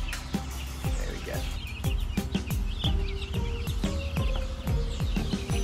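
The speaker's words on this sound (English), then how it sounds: "I'll take you through to where we've set up a temporary brooder to get our 100 birds started up." A flock of about 100 young pasture-raised chickens in an indoor temporary brooder, with many overlapping clucks and chirps close by in a busy, continuous chatter.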